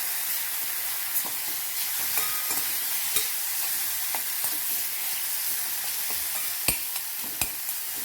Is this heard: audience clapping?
no